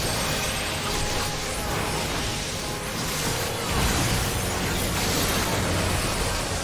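A loud, sustained tank explosion blast in Final Fantasy XIV, a dense roaring wash of noise with a surge partway through, set in a raid encounter.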